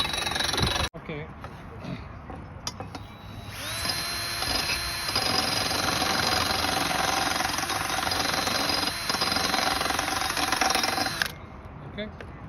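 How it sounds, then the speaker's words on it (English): An electric drill whines at a high steady pitch for several seconds while sharpening a garden tool blade, starting and stopping abruptly, close and loud, with faint handling sounds around it. "You can use a battery drill or an electric drill."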